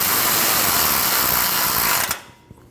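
A power tool drives a bolt holding a power steering line to the frame rail of a 2012-2021 Nissan NV2500, a loud, close, continuous whir lasting about two seconds before cutting off.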